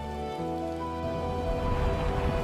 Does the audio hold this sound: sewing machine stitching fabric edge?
no